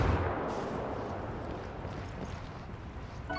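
Gunfire in the shooter Ghost Recon Breakpoint, a continuous loud wash of rapid shots and booming reports blending into a dense roar with no clear gaps.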